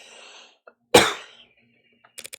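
A single loud, sharp sneeze bursts out of near silence close by, with faint background murmurs before it and a few short clicks or taps afterward, in a crime-scene setting.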